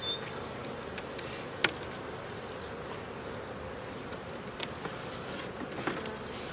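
A steady, faint hum of bees buzzing around a hive box during a split, a continuous low drone with a few sharper close passes of individual insects, no voices.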